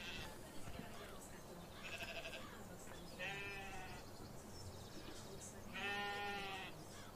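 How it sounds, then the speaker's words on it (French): Sheep on a Limousin farm bleat in several drawn-out calls spaced a couple of seconds apart, moderately near, over a busy background of barn noise and faint people talking. "Alors, hop, on va voir les moutons."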